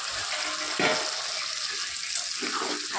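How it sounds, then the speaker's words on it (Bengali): Filtered water poured into a pan of cooked-down chicken curry hisses and sizzles steadily, with bursts of bubbling and splashing throughout. "এবার এটার মধ্যে একটু পরিমাণ মতো ফিল্টার থেকে নিয়ে এটাকে একটু জল দিয়ে দেবো।"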